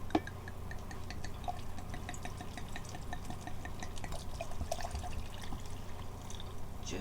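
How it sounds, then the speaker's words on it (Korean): Wine from a bottle is poured into a container over three roughly cut onions, a faint steady trickle and drip of liquid that carries on without any talking. "와인을 여기다 부어 줄게요. 와인을 부어 주세요."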